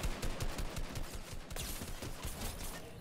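Video game gunfire fills the whole stretch with dense, rapid bursts of automatic shots and overlapping volleys, loud and continuous with no pause.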